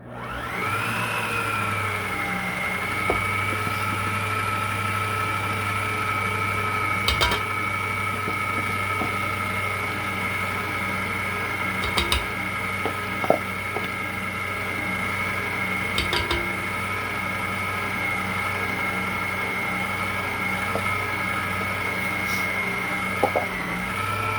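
An electric mixer whirs through cookie dough for pecan snowball cookies made with all-purpose flour and a pinch of salt, a steady motor whine holding nearly unchanged for about twenty-four seconds, with a few small knocks.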